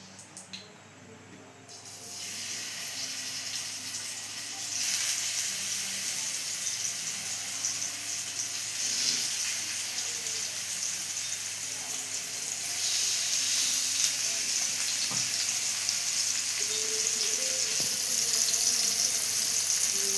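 Halwa pomfret fish fries in oil, a steady close sizzle that grows louder and denser partway through, then keeps crackling without any talk.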